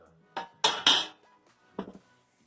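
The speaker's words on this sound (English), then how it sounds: "now I'm putting in some brackets, because I'm going to build a little cooking tray" Metal brackets being fitted into a homemade galvanized tent stove, giving a few sharp metallic clanks and rattles close by, with two loud hits in quick succession followed by a softer one.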